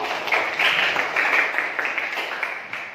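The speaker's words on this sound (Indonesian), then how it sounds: "Berikan tepuk tangan untuk kelompok 1." Classroom applause for a student group after their presentation in a university teaching practice session, steady clapping from a small group lasting throughout, fairly close and even.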